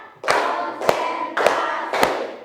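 A classroom group claps together as a motivating routine before a lesson, four crisp, evenly spaced claps roughly every half second, each with a short reverberant tail, near and loud.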